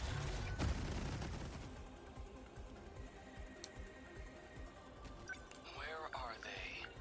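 Missile raid attack in the video game 13 Sentinels, a faint burst of rapid explosive impacts and booms at the start, fading into quieter game effects and electronic tones, with a player talking over it.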